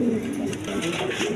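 High-quality pigeons coo steadily and close by, their low, throaty calls overlapping without a pause for the whole moment.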